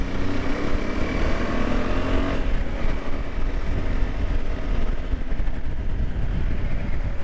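A group of about 25 motorcycles rides at an easy pace along narrow off-road trails in Goa, producing a steady, loud, broadband engine drone with overlapping motors and road noise and no talk.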